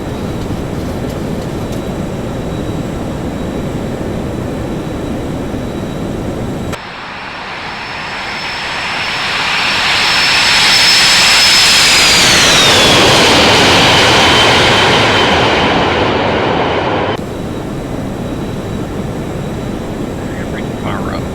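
Jet engines of a Boeing 737-200 in X-Plane 11 roar steadily as the airliner climbs after takeoff, swelling louder with a falling whine midway before settling back, loud throughout with no speech.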